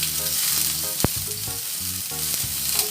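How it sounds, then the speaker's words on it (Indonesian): Shallots sauté in a hot pan with a steady, fairly loud sizzle, broken by a sharp utensil scrape near the middle and light stirring knocks, over a tonal background hum. "bawang merah. Nah, ini kita tumis"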